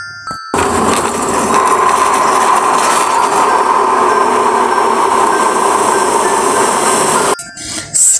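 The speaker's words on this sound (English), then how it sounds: "Steam engine." Steam engine train rolling past with a continuous loud rumble and rattle of railroad cars, steady for about seven seconds before stopping abruptly, with no speech.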